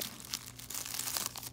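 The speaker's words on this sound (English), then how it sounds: "Rip that bag." Crinkly plastic of a tea subscription bag being ripped open, a short burst of crackling and tearing rustle up close, with no one talking.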